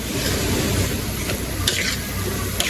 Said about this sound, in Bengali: এখন টমেটোটা দিয়ে ভালোভাবে একটু কষিয়ে নিব